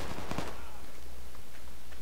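Gunfire in a firefight in the video game Project Reality, a dense, loud burst of rifle shots early on, followed by a continuous noisy battle rumble with a few scattered, distant pops.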